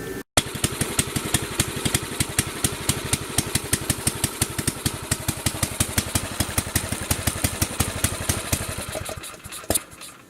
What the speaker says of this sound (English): And the motor seems to be running fine now.